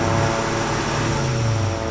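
A helicopter passes overhead with a continuous loud rotor drone and throb, filling the whole short stretch with no talk.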